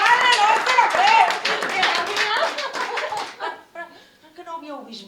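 Audience applause and scattered clapping at a Catalan theatre comedy performance about love during COVID-19, dense at first and thinning out, mixed with voices and light laughter.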